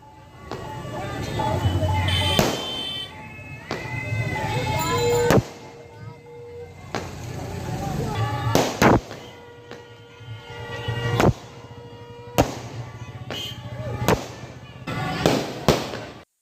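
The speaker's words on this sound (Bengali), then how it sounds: "এখন বাজি ফাটছে।" Fireworks burst at a wedding, a series of sharp, loud bangs and crackles at irregular intervals, mixed with crowd noise and people talking throughout.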